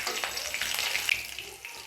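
Panch phoron, bay leaf and green chilli fry in hot oil, a soft close sizzle with faint crackles and a few light pops, no talking.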